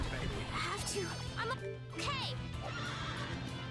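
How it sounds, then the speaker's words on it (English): Neighing and whinnying from a monster that blends horse and dragon in the Tales of Vesperia role-playing game, with several rising horse-like calls over game music and battle effects, and a voice talking in the mix. "It's like a weird horse mixed with a dragon."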